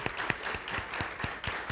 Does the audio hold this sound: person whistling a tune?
no